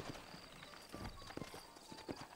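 Horse hooves clip-clop in Red Dead Redemption, the Xbox 360 Western game, set in New Austin: a quiet, uneven run of hoof strikes on the ground with faint background sounds.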